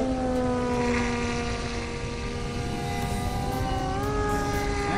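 Remote-control model planes fly overhead with a steady, continuous buzzing drone and layered whining propeller tones that rise slightly in pitch near the end, loud and close throughout with no talking.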